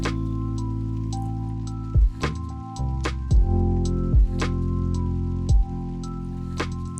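Fried and roasted chilies are ground on a flat grinding stone: several slow, rhythmic, wet, squishy strokes, each a dull thump and scrape, over a steady low hum.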